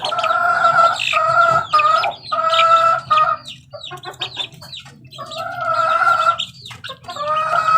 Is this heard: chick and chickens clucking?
yes